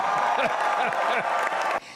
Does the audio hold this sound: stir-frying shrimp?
no